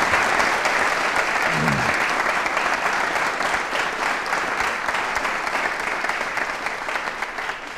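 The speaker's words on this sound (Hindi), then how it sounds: "तालियां जोरों से बजाइए आपके लिए" Audience applause at a college quiz show on elections, steady and sustained clapping from a crowd that slowly fades, with no talk over it.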